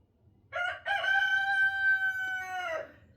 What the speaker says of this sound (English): Stan's the rooster.